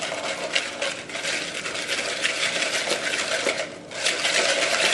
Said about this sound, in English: At this point you'll just use a whisk